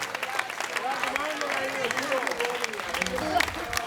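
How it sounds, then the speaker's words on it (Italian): Applause from an outdoor crowd at a live music show in Piazza Manzoni, Jesolo, steady clapping that carries on under a voice talking over it. "Facciamo sentire l'applauso ancora una volta"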